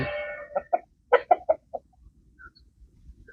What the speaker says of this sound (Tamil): இதுதான் சேவல்